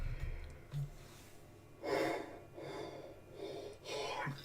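A person yawns in a few breathy, drawn-out bursts with short pauses between them, heard close and fairly quiet, with no speech.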